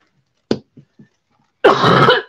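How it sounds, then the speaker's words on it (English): A few faint throat-clearing sounds are followed by one loud, close, harsh cough lasting about half a second. "I'm sorry about the coughing."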